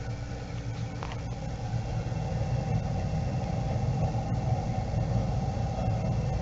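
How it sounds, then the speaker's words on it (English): The fan of a Bradford White power vent water heater starts up and runs with a steady, even mechanical hum and low rumble, close and continuous without speech. "That's the fan coming on. It comes on first to exhaust any gas that might be coming out."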